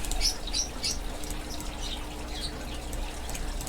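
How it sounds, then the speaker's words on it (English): Small pet birds chirp and tweet in quick, bright bursts near the start, fainter calls scattered afterward over a low steady room hum. "Sorry for my little birds."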